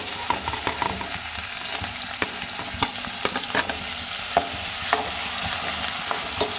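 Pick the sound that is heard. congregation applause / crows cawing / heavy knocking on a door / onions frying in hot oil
onions frying in hot oil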